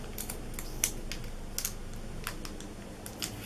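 Scotch tape pulled and pressed onto a jar-shaped candy treat bag, heard as a scattering of soft, close ticks and light crackles at irregular intervals over a quiet background.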